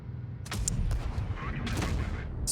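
Tank cannon shots in World of Tanks Blitz, with a high-explosive round among them: several sharp booming reports in quick succession, each with a rumbling tail, loud and close, as someone speaks quietly underneath.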